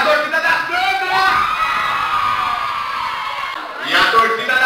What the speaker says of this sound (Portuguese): E a torcida da Sandra!